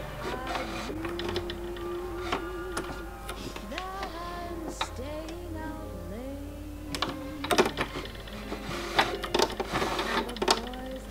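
Domestic sewing machine stitching a fold on a small 1960s-style doll skirt with a twin needle, running in short bursts with pauses, its motor whirring and rising in pitch at each start, close and moderately loud with light ticking.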